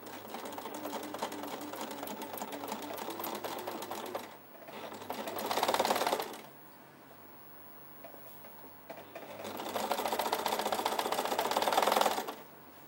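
A small domestic sewing machine stitches sequin work on a baby frock, running in two steady buzzing bursts with a quiet pause between, close and alone.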